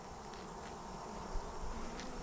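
Bees buzz steadily around an open beehive while brood frames are inspected, a dense, continuous drone of many insects close by with no talking.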